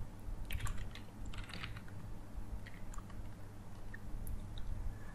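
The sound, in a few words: typing HTML code on a computer keyboard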